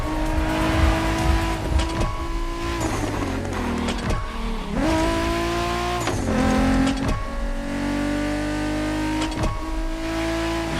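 A BMW Z4 M40i roadster driving in The Crew Motorfest, its engine revving up and dropping through repeated gear shifts, loud and close over about ten seconds.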